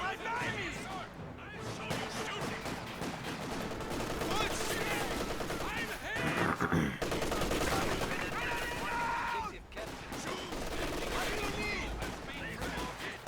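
Automatic fire from an MG34 machine gun in the Company of Heroes 2 strategy game, sustained bursts mixed with other battlefield gunfire and explosions, loud and continuous across the whole stretch under a busy game soundscape.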